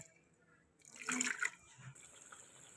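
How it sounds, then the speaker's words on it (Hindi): Water is poured into a pot of haleem as it cooks, a brief splashing pour lasting under a second against quiet kitchen background noise. "थोड़ा सा पानी ऐड करेंगे।"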